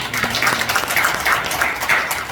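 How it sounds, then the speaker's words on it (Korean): Congregation at a Korean church men's morning service clapping in thanks to the pastor after his sermon, a moderate round of scattered hand claps in uneven bursts, fairly close and unaccompanied by talk. "우리 귀한 말씀 전해주신 목사님께 감사의 박수"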